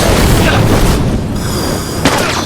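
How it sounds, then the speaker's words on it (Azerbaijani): A grenade explosion in the video game The Last of Us, a loud, deep, sustained boom with rumbling low end that fills the whole clip before tapering, with a sharp burst near the end. "Əlində partladı."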